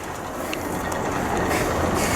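A tram rolls past a city tram and metro stop near Rokin, a steady loud rumble and hiss of wheels on rails with faint ratcheting clicks, close and continuous throughout.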